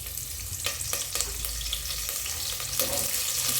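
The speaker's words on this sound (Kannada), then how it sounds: "ಸೊ ಇವಾಗ ಒಂದು ಪಾತ್ರೆಗೆ ಎಣ್ಣೆ ಹಾಕ್ಕೊಂಡು ಸಾಸಿವೆ, ಜೀರಿಗೆ ಅದೊಂದು ಸ್ವಲ್ಪ ಸಿಡಿಲಿ." Mustard seeds and cumin spluttering in hot oil in a pot, with sharp scattered pops and crackles over a steady sizzle, fairly close and with no voices.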